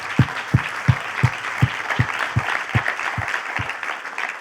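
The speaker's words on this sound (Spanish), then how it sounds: "dale un aplauso" A church congregation claps during a Spanish-language sermon, with a run of about ten evenly spaced, thumping claps in a steady rhythm over a bed of scattered, lighter applause.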